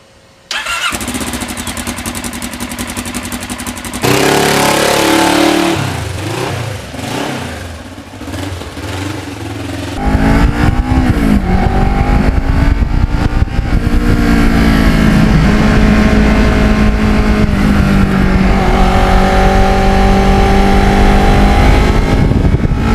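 Kawasaki Ninja motorcycle with lowered forks cranks and fires up, settles into a loud close idle, then revs and pulls away into sustained acceleration with the engine note climbing through the gears, no speech.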